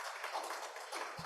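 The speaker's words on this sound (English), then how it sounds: "Welcome her with warm applause." A conference audience applauds warmly, a steady wash of many hands clapping at moderate distance, heard briefly on its own.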